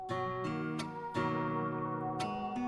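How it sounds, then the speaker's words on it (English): A sustained synth pad in D with rich harmonic chords, shifting to new voicings several times, warm and steady without pauses. "Alright, so I found this D pad right here."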